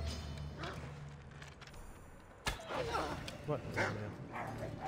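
Dog barking in the video game Assassin's Creed Odyssey, a few short yips and barks mixed with game ambience while someone talks over it.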